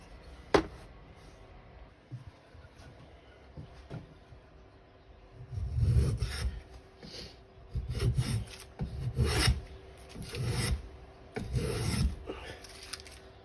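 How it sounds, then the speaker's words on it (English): Restored Stanley 110 block plane shaving wood, several rasping strokes in a steady rhythm close by, each stroke a short burst of scraping friction, after a few light taps at the start. "I'll try and do some bit of planing with this in a second"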